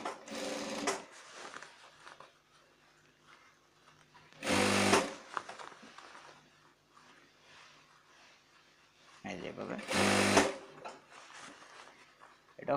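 Sewing machine top-stitching a shirt, two short loud whirring bursts of running stitches close by, separated by quieter handling sounds, with someone talking in between.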